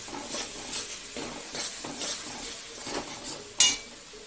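Marinated chicken goes into a hot pan for a chicken and gati kochu curry. It sizzles and fries steadily while being stirred, with one sharp metallic clink from the pan or utensil near the end.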